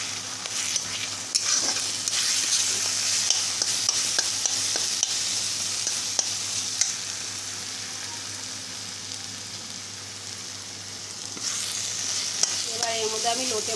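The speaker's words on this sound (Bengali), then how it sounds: "দেখতে পাচ্ছ কষানো হচ্ছে, আওয়াজও পাচ্ছে নিশ্চয়ই।" Ginger-garlic paste and ground spices sautéing in a pan for a fish dish, a steady close sizzle with scraping stirs throughout, no talk.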